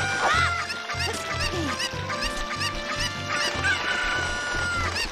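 A cucco, the chicken in the video game Ocarina of Time, clucking in repeated sharp bursts over a looping game music bed, loud and close.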